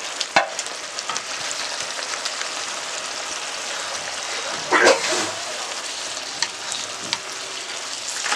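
Okra frying in spice masala in a pan makes a steady, fairly loud sizzling hiss, with a few sharper clicks and a brief stirring burst partway through.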